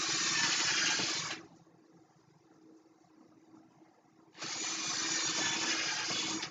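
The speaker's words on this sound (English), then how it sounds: "But we'll drill the holes." A power drill runs in two sustained bursts, boring stitch holes in plywood on an 11-foot, 60-pound backyard-built boat, with a quieter pause between the loud drilling runs.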